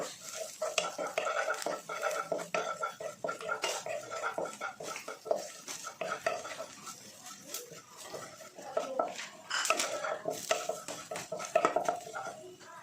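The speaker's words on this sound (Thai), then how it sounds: "พอน้ำมันร้อนเราก็จะใส่กระเทียมลงไป เจียวกระเทียมไห่หอมนะครับ" Garlic frying in hot oil in a wok, a light crackling sizzle beneath frequent scraping and clinking of a metal spatula against the pan, close and busy throughout.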